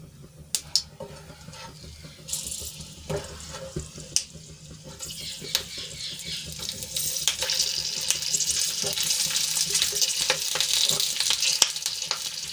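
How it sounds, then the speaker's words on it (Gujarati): Green chillies frying on low heat in a little oil with popped mustard seeds, a continuous crackling sizzle with scattered sharp pops and clinks that grows denser and brighter toward the end. "તળવા માટે આપણે મરચાં મૂકી દઈશું"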